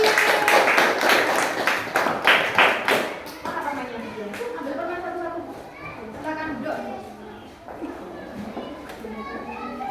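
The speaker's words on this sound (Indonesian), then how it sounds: "Tepuk tangan untuk kelompok penguin." A classroom of children claps in a few rhythmic bursts for the penguin group, then the clapping gives way to lively children's chatter and talk.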